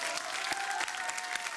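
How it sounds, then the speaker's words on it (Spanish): An audience at a televised duet singing competition final claps steadily, a dense and fairly distant applause with a faint tonal hum underneath that carries through the whole moment. "Quiero un fuerte aplauso a Evelyn"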